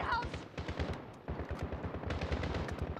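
Gunfire in the video game Call of Duty: Modern Warfare, a steady stream of rapid shots with a brief pause, loud and continuous against a busy battle background.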